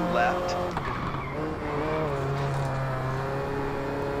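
A rally car in RalliSport Challenge 2 runs at steady high revs, its engine drone shifting pitch with gear changes while tires squeal faintly. A voice talks over it.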